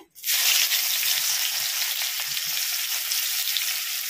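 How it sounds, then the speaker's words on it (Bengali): Chopped onion hits hot oil with a sudden loud sizzle that settles into a steady, close hiss of frying, for a Bengali ghatkol leaf batna. "তেল গরম হয়ে গেছে, তেলের মধ্যে পেঁয়াজ কুচি দিয়ে দিচ্ছি"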